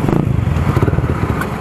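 A Kawasaki Z200 motorcycle fitted with an Akrapovic muffler and 51 mm big elbow runs loud and close, its exhaust pulsing in a rapid, throbbing beat.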